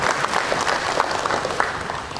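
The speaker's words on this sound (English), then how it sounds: "Let's put a round of applause for our good minister" Steady applause from an audience at a formal speech event in Papua New Guinea, a dense patter of many hands clapping at moderate volume, with no one speaking over it.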